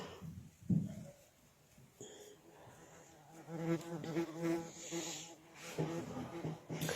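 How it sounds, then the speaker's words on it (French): A bee buzzes close by outdoors, its wavering drone swelling and fading as it circles near the listener, with faint background sounds and no clear speech. "C'est une abeille qui vient m'attaquer."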